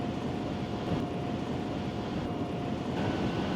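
An Esky Eyas RC model airplane flying in wind, its small motor giving a steady, continuous drone at moderate distance for the whole stretch, without any talk.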